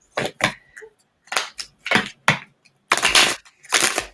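A deck of oracle cards is shuffled by hand close up, giving a series of crisp riffling and slapping bursts in an uneven rhythm with short gaps between them.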